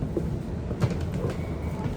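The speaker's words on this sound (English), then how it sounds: "We're on a train now." Train riding on rails between metro stops in Sydney, heard from inside the carriage as a steady low rumble with faint rhythmic clicks and a brief louder knock partway through.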